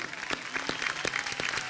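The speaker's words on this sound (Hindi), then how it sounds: "जोरदार तालियां।" Dense studio audience applause at an Antakshari League music reality show, steady and fairly loud, with individual claps standing out throughout the short burst.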